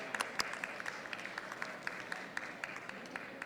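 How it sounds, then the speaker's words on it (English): Light, scattered clapping from an audience at an International Day of Yoga event, individual sharp claps standing out over a thin, quiet wash of applause. "A big round of applause to State Bank of India and Air India."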